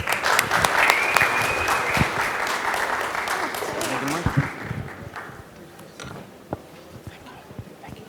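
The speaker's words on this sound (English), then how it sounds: "Dr. Ali, Juwan, please give them a round of applause." Audience applause at a conference fireside chat, a dense burst of clapping that starts loud, then gradually thins out and fades over several seconds, with a few scattered late claps near the end.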